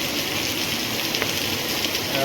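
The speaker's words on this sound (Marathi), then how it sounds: "पाऊस भरपूर पडते" Heavy rain pours down steadily in rural Konkan, a dense, even hiss with no break throughout.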